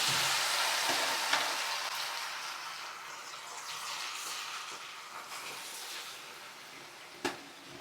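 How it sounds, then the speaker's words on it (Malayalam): Fish pieces frying in hot oil with curry leaves for Kerala fish pickle, a continuous bright sizzle with occasional pops and stirring clatter, close and steady. "ഇനി നമ്മൾ ഇത് മീൻ ഇടുവാന്നേ"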